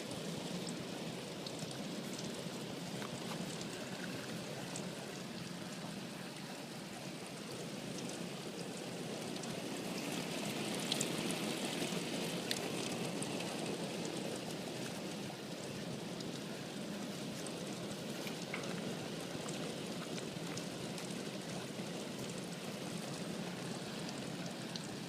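Water leaking through a veranda roof, a continuous soft trickle and patter of running water, even and faint throughout with no talking.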